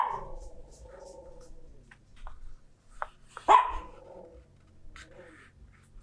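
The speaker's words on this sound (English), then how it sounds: "Now the dogs are getting excited because he's home. That's what they're barking at." Several household dogs barking excitedly as someone comes home, a few sharp close barks and yelps scattered between quieter whines, with a loud burst near the middle.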